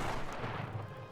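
Heavy cannon fire with secondary explosions aboard airships in a battle in Airships: Conquer the Skies, a dense, continuous low rumbling boom that stays loud for just over a second with no voices.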